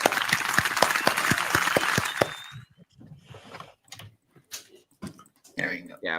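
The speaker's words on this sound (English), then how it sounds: "Let's give a round of applause" A burst of clapping from a crowd for about two seconds, then fades into scattered voices and quieter sounds.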